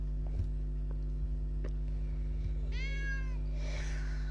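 Cartoon cat meows in the Avatar World mobile game, a short sweeping meow over a steady electronic hum, followed by a brief burst of noisy game sound effects.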